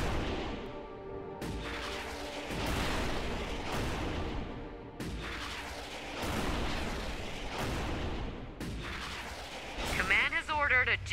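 Rocket team barrage in the sci-fi strategy game Starship Troopers: Terran Command, loud repeated booming launches and explosions rolling continuously, with chatter and shouted military voice lines mixed under the blasts.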